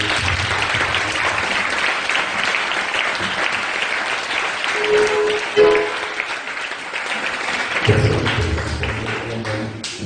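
A church congregation claps and cheers in praise of God, a dense, sustained burst of applause filling the room, swelling slightly near the end with a few voices rising through it.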